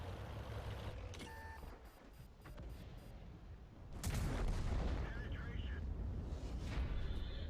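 A tank cannon fires a high explosive anti-tank round in World of Tanks, one sharp loud blast followed by a sustained rumble, with quieter battle noise and faint interface beeps before it.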